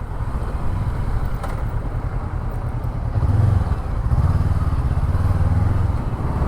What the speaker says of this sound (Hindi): ये गया गौतम अपना बाइक